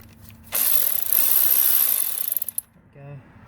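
A power tool with a deep socket loosens bolts during a turbo upgrade on an MK4 GTI or Jetta, a single loud whirring burst of about two seconds that stutters to a stop, followed by a brief voice.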